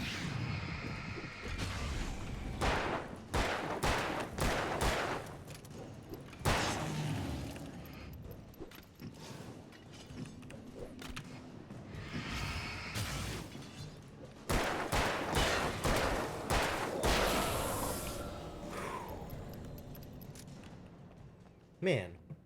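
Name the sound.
gunshots from the video game Alan Wake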